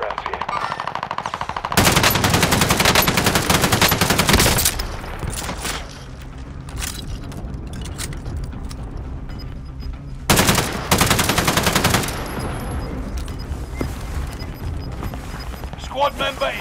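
Small-caliber automatic gunfire rattles in Call of Duty: Modern Warfare, two loud sustained bursts of rapid shots separated by quieter battle noise with voices.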